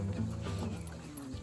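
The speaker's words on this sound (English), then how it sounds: "So I'm taking care of that poor dog for a little while" An injured dog that was hit by a car whimpers and whines softly in short, breathy tones, fairly close, with faint background noise throughout.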